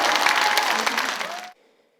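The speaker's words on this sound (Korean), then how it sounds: "박수를 주십니다." Audience applause at a Buddhist event honouring a monk's translation work, a dense burst of many hands clapping that fades and stops abruptly after about a second and a half.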